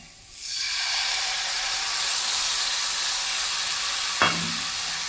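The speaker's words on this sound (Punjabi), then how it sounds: "ਮਸਾਲੇ ਨੂੰ ਹਲਕਾ ਜਿਹਾ ਭੁੰਨ ਕੇ ਹੁਣ ਪਾ ਦੇਣਾ ਇਹਦੇ ਵਿੱਚ ਨਾਲ ਹੀ ਭੁੱਜੇ ਹੋਏ ਟਮਾਟਰ" Spices and roasted tomatoes hit a hot pan for a tomato and garlic sabzi, bursting into a loud, steady sizzle that holds throughout, with a brief clink of a utensil near the end.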